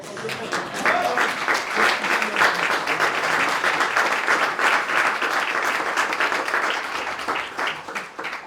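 Sustained applause from a conference audience fills the whole stretch, dense and steady at moderate loudness, with no speech over it.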